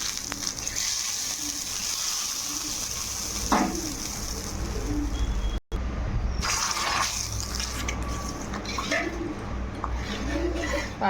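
Hot panch phoron tempering, the spices fried red, poured into vegetarian khichuri in a pot, giving a steady, fairly loud sizzle with a brief sharp break midway and light stirring, faint speech nearby.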